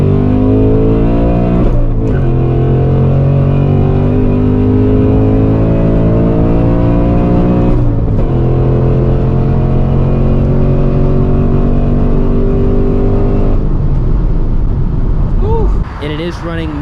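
A 2024 Ford Mustang GT running an E30 ethanol blend pulls hard, its engine note rising steadily in loud sustained sweeps with brief breaks at gear shifts, then dropping off near the end.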